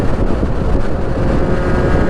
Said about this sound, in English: this is a little 249cc twin cylinder 2-stroke